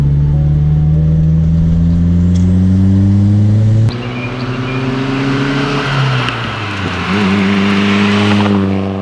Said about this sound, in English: Turbo flutter.